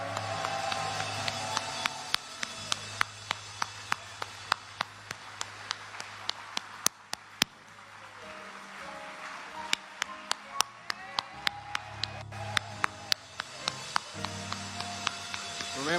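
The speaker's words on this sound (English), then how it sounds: "can we give our class of 2024 graduates a thunderous round of applause" Sharp, scattered hand claps ring out across a church commencement ceremony honoring class of 2024 graduates. The claps come in an uneven, roughly rhythmic series over sustained organ-like music, loud and close, with a brief lull midway.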